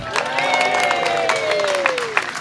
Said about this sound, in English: A round of applause for Craft D.